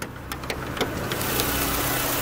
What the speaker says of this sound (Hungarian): ez egy nagyon szépen csendesen ketyerésző motor